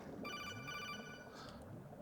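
A codec radio call rings in Metal Gear Solid 2: Sons of Liberty, a steady electronic trill of stacked tones lasting about a second, heard close over low game ambience.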